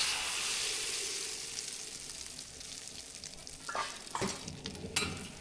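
An egg drops into hot oil for a salted fish fried egg dish, setting off a steady loud sizzle, with a few sharp spatters and stirring scrapes near the end.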